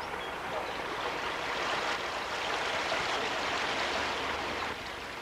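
Water rushing along the head race sluiceway of a grist mill in Perryville, Rhode Island, a steady broadband roar that stays even and unbroken, fairly close and alone with no talk.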